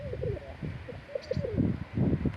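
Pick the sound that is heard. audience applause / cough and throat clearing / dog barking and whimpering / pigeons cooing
pigeons cooing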